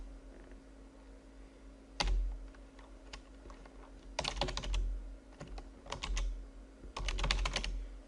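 Scattered bursts of clicking on a computer keyboard, with a single sharp keystroke, then quick clusters of typing separated by short pauses, close and clear over a faint steady hum.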